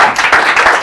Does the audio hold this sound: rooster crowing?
no